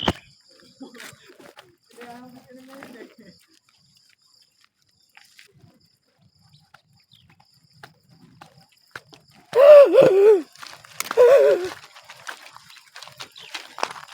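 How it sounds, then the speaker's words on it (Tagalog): Heavy, loud breathing of a cyclist catching breath after a climb uphill, in two bursts close to the mic, with brief speech and quiet gaps before. "Hingal malala."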